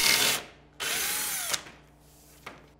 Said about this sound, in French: Percez avec une mèche à bois de 7 mm jusqu'à l'évidement.